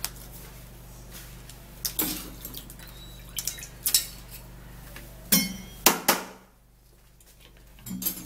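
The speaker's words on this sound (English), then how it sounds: "I'm going to grab my glass cup." A glass cup being handled in a kitchen while an onion and lemon drink is made: several sharp clinks and knocks arrive at irregular intervals over a low steady hum, each one fairly close and distinct.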